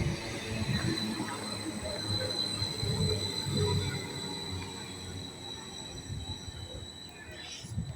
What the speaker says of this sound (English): Here comes a Greater Anglia 755, 416